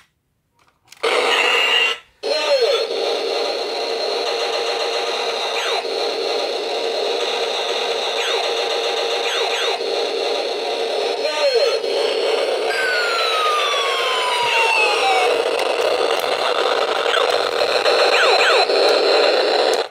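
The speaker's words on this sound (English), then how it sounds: "Now this is how the entire soundtrack for the firing sounds like" An electronic REX patrol robot toy plays its firing sound effects, a loud, continuous synthetic siren-like whine with buzzing tones and sweeping laser-style zaps, after a brief click and pause at the start.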